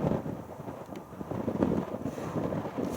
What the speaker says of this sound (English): About a 15-mile-an-hour crosswind here.